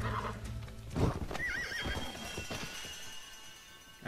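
A horse lets out a loud shrill whinny with a wavering pitch, mixed with hoof clopping and background sounds from the video game Red Dead Redemption.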